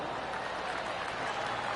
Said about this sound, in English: Yeah, golf clap.